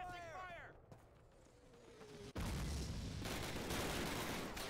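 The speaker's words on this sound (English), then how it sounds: "Covering suppressing fire!" Heavy suppressing gunfire erupts in a Call of Duty 1 battle at Ste. Mere Eglise, a sudden loud dense wall of overlapping shots that continues after a quieter opening with a shouted voice.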